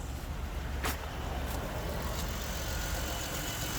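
A 2011 Chevy Impala engine idles steadily with a constant low rumble, close and continuous, with faint metallic ticks near the start.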